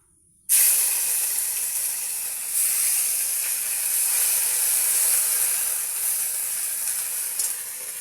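Ginger-garlic paste hitting hot oil in a pan for chicken dum, an abrupt loud burst of hissing sizzle that stays strong and steady throughout.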